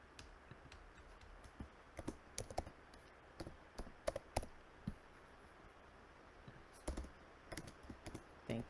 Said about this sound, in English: Your typing sounds so aggressive.